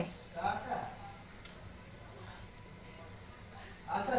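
Batter-dipped taro pieces frying in oil over medium-low flame, a soft continuous sizzle with brief louder bursts at the start and end, heard close up.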